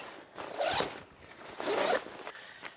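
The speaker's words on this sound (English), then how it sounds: "There's an external zipper for some quick access to however you organize your pack" Zipper on a Stone Glacier hunting backpack's external access pocket, pulled in two quick strokes with a short tug at the end, close and crisp with no talk.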